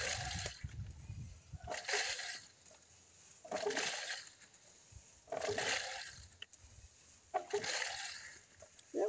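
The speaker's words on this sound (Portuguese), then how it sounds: "No que a gente baixa aqui o pistão, dá pressão aqui. Você vê que chega chia." A homemade PVC piston pump pushes water in a rhythmic cycle, with bursts of hissing, splashing surge roughly every two seconds separated by quieter gaps, heard close up outdoors.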